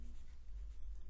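Marker or chalk writing on a classroom board during a lesson on money, a soft continuous scratching over a steady low hum, fairly faint and unbroken for about a second.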